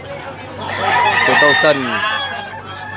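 A white-legged gamecock rooster crows once, loud and close, a rising then falling call lasting over a second, with a voice speaking faintly around it at a cockfighting bird sale in Tabunok, Talisay, Cebu.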